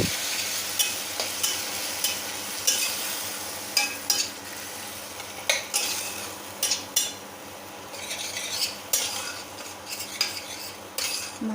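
A paste with Kashmiri red chili fries in oil for a jackfruit curry, a busy sizzle broken by frequent scraping and clinking of a spoon against the pan, close and without talk.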